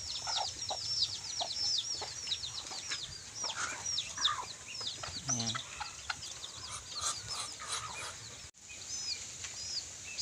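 Chickens on a countryside farm clucking and chirping repeatedly at close range, with busy overlapping calls and a brief rustle, while someone speaks a word over them.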